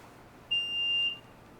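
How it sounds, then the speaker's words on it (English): Single steady electronic beep from a fire alarm control panel triggered by a disconnect fault, a clear high tone lasting about half a second against a quiet room hum. "Beeped one time and that was it."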